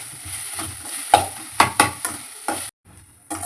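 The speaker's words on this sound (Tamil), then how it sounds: "தக்காளி வதங்கும் போது பாவக்காயும் போட்டு வதக்கிடுங்க ஃப்ரெண்ட்ஸ்." Bitter gourd and tomato sauté together in a pan, with a soft sizzle broken by several sharp scraping stirs of a ladle. The sizzle drops out briefly near the end, then returns.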